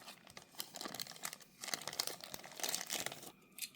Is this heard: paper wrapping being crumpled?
yes